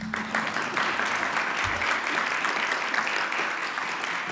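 Audience at an Alaska innovators hall of fame induction ceremony breaking into steady applause, a dense continuous clapping from a sizable crowd that holds at an even level throughout.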